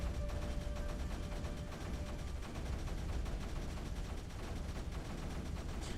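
Cannon weapons fire in the strategy video game Creeper World 3: Arc Eternal, a dense, continuous barrage of rapid gunfire-like shots at steady loudness throughout.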